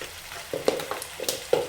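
Chili powder is stirred into a frying yam and Malabar spinach curry with mustard, giving a soft sizzle broken by a few light spoon scrapes and taps against the pan.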